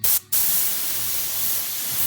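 An Iwata LPH 50 spray gun hisses out paint onto tape in a loud, steady burst of airy spray, briefly interrupted by a short pause near the start before continuing evenly.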